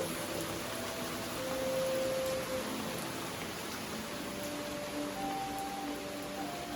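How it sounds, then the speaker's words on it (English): Heavy rain pours down steadily outdoors, a dense continuous hiss with no voices over it. "Oh my goodness, it's pouring down rain."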